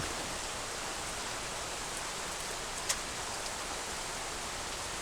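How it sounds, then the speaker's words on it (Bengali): Heavy rain falls steadily on a village home, a dense, even wash of noise with no pauses and one faint tap partway through. "বৃষ্টিও শুরু হয়েছে প্রচুর বৃষ্টি হইতে আছে দেখেন"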